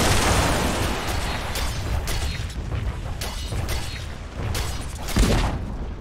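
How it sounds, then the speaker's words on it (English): Dire's bottom tower in a Dota 2 match, heard as repeated booming impacts and bursts over a dense wash of battle noise, loud and close, with no voices. "Dire's bottom tower has been denied."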